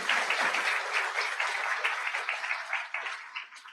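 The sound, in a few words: audience applause at a convocation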